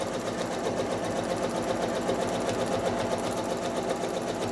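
A sewing machine runs steadily, stitching quilting lines across a modern square quilt block, with a continuous, even mechanical hum and rapid needle rhythm throughout.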